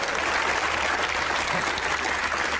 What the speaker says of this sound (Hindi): तालियां बजाइए अपने लिए